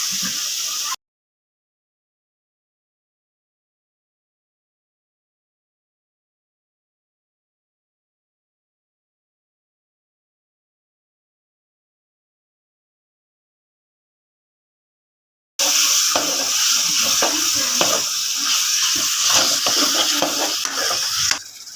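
Chicken pieces sizzle and hiss in a kadai, with stirring and utensil scrapes against the pan, loud and close for the final six seconds after a long stretch of silence.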